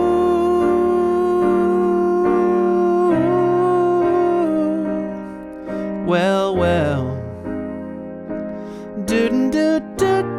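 Piano chords from the chorus of a song, each held about a measure, played steadily and fairly loud, with a brief sung or spoken phrase over the keys partway through.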